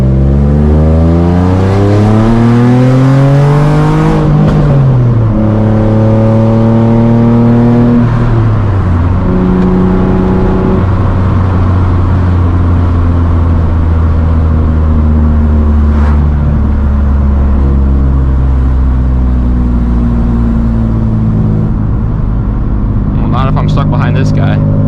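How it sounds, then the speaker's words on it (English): A Nissan 350Z engine with a loud exhaust and an exhaust leak revs up and down loudly and close by, its pitch climbing and falling through gear changes, with a few sharp backfire pops near the end. "since it has that exhaust leak, it backfires like crazy"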